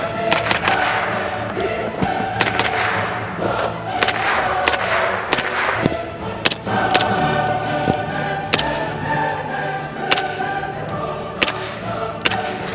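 An H&K MP5SD suppressed submachine gun fires outdoors in irregular single shots and short bursts, each crack sharp and fairly loud with metallic action clatter, about a dozen reports across the span.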